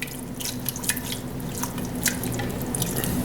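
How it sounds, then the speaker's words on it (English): Cold whole milk is poured into a casserole, a soft, continuous liquid trickle with faint splashy drips, close and quiet with no talking. "I'm gonna start adding a little bit of milk, just whole milk here."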